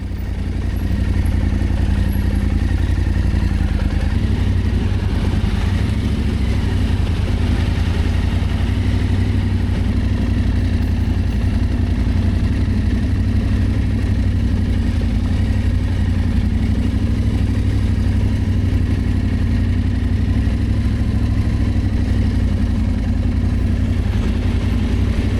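Off-road motorcycles, including a Husqvarna Norden, are ridden out of thick mud at a mountaincross adventure event, their engines droning steadily and loudly at low revs with some clatter throughout.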